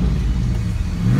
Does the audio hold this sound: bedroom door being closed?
no